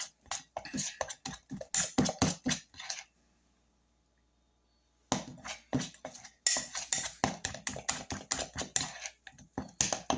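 A whisk or spoon scrapes and clicks steadily around a bowl of icing for a blackberry pound cake, in rapid rhythmic strokes that stop for a couple of seconds and then resume, close and fairly loud.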